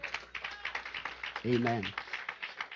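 Church congregation giving a clap offering during a sermon, a steady run of brisk claps throughout, with a voice briefly speaking over them midway.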